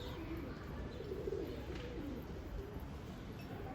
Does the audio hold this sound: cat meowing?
no